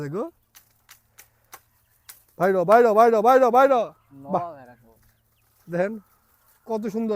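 Chickens clucking close by in short bursts, with a longer rhythmic run of clucks in the middle and light clicks between.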